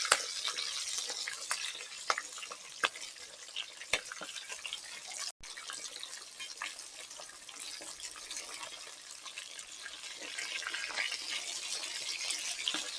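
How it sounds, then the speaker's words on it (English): Barracuda fish frying in a pan for Jamaican escovitch in a backyard, a steady close crackling sizzle with a few sharp clicks and a brief scrape as the fish is turned, no talking. "we're going to just flip our fish. Flip to the other side."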